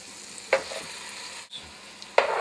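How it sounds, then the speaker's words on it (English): Mushrooms sizzle steadily in a hot pan for crawfish étouffée, with a few brief scraping stirs of a utensil standing out against the constant frying hiss. "Stir that up real good."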